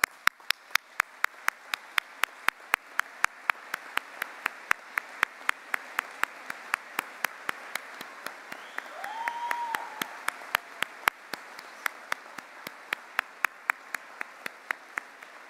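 Sparse applause at a university business school convocation ceremony, individual hand claps ringing out at a steady, unhurried rhythm in a large hall, with a brief murmur of voices partway through.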